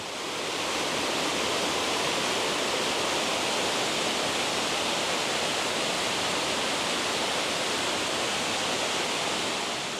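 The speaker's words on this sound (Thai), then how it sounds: "เสียงน้ำก็กึกก้องสนั่นป่าไปเลยทีเดียวท่านผู้ชม" Waterfall in flood at Sai Yok Noi, swollen with chocolate-brown runoff, roaring as a steady, dense, loud wash of broadband water noise that holds unbroken throughout, with no voices.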